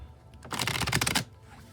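A tarot card deck is shuffled in one quick, close riffle burst lasting under a second, with quiet room tone before and after and no voices.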